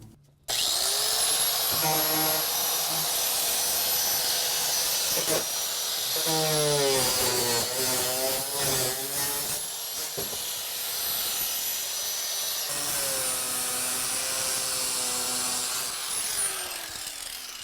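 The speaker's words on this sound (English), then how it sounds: "I gotta trim these mud flaps somehow." A power tool trims the mud flaps on a Lexus GX470 off-road truck, giving a loud, steady whine that rises and falls in pitch as the blade bites and frees up, running unbroken for the whole stretch.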